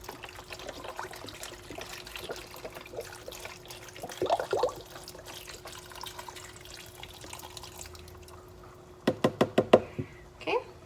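Liquid is poured into a dish while making beef stew, a faint trickle with light clatter, followed by a quick run of sharp knocks and taps near the end.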